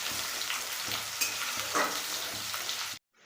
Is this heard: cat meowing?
no